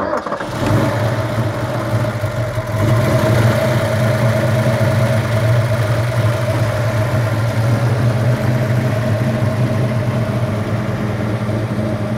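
A 1971 Ford Falcon XY GT replica's engine turns over, catches within the first second and settles into a steady, loud, rumbling idle that holds close and even for the rest of the clip.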